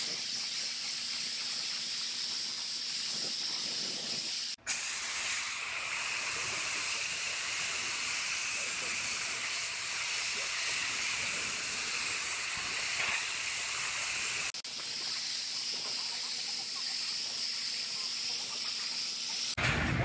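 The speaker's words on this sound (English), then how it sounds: "So I'm going to spray this etch primer on all the bare metal spots" Steady close hiss of a spray gun spraying etch primer onto bare metal spots in a body shop, running almost continuously with brief breaks between passes.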